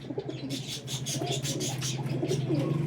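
Sialkoti flying pigeons coo in a low, steady burbling chorus nearby, with faint wing rustles and shuffling in the background.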